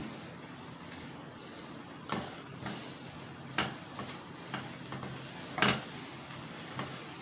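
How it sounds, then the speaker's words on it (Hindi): Chicken pieces frying lightly in a pan until golden, a soft steady sizzle with a few sharp utensil clinks and scrapes at irregular moments, close and quiet, no voices. "ये चिकन आपके सामने फ्राई हो रहा है।"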